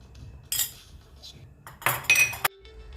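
Metal spoon clinking and scraping against a bowl while beetroot thalipeeth dough is mixed with sesame seeds, a few sharp clinks and scrapes in quick bursts, close and fairly clear, no talking.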